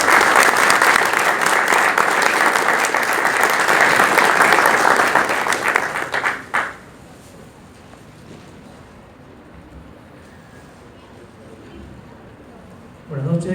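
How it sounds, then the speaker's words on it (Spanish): Loud, full audience applause welcomes the speakers at a Spanish-language book presentation organised by Grupo Planeta. It runs strong for about six seconds, then cuts off into a quiet room hum. "vamos a recibir a nuestros ponentes con fuertes aplausos"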